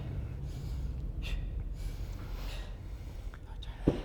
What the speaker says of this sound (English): She's breathing out at the top, breathing out at the bottom, and breathing up in between.